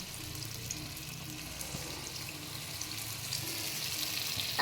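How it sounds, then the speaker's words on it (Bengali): Dahi vada batter balls frying in hot oil in a kadai over low heat, a steady, soft bubbling sizzle that continues evenly throughout and swells slightly toward the end. "এবার আমি তেল দিয়ে দিয়েছি কড়াতে। এবার আমি বড়াগুলো একটা একটা করে ছাড়বো।"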